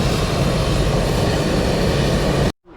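A large aircraft engine roars loud and close in a steady, broad drone that cuts off abruptly near the end, leaving near silence.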